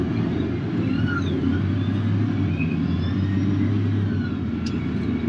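A Cat wheel loader backs out of a material pile and carries its load over to a truck, its diesel engine giving a steady, loud, low rumble throughout.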